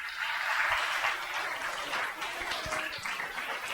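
A church congregation applauds in a steady wash of many hands clapping, fairly loud and sustained, swelling early and then holding at an even level.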